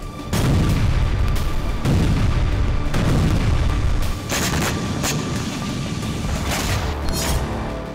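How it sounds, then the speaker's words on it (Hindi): Missile strikes exploding in the Russia–Ukraine war, heard as a run of heavy, loud booms and sharp blasts, one after another over a continuous rumbling roar, with no voices. "बरसती हुई पुतिन की मिसाइल मुनादी कर रही हैं"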